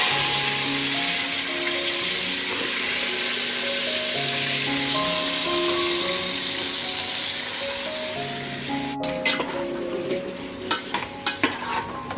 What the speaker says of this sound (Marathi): एका पातेल्यात तेल गरम करायला ठेवलं आणि इकडं मस्त चिकनला हळद आणि मीठ लावलं